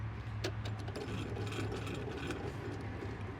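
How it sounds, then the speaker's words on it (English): A crank handle lowers a trailer stabilizer jack on a travel trailer, making a quiet, close, continuous ratcheting and gear-grinding clatter with a low hum behind it. "we're just going to put our crank handle here on that comes with the unit."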